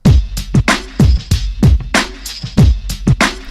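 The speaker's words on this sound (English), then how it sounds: "So we have a really simple breakbeat here." A punchy drum breakbeat of kicks, snares and hi-hats in a tight funky groove, loud and upfront with no voices.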